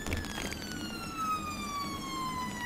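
Siren of a 3.5-ton ambulance running on blue lights through the streets of Liverpool, a steady wailing tone sweeping slowly downward, loud and close over road rumble with no talk.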